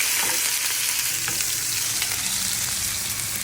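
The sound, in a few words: frying tempering of mustard seeds, onion, tomato, curry leaves in oil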